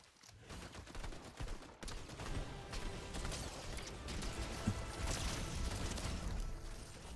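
Gunfire in the video game Fortnite, a dense continuous spray of shots with overlapping bursts and mechanical clatter, fairly loud and sustained throughout.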